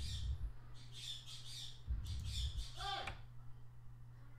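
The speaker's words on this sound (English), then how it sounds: "That's my bird." A pet bird squawking in a home, shrill repeated cries at a moderate distance with a low background hum, followed by a short, fainter squeak near the end.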